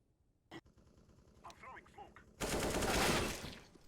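Automatic rifle fire in Counter-Strike on the map Mirage, a sustained loud burst erupting after a stretch of quieter footsteps and faint clicks, with a single sharp shot earlier.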